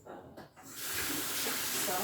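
Kitchen tap water running over food being rinsed during meal prep, a steady close splashing hiss that starts after a brief quieter moment and continues to the end.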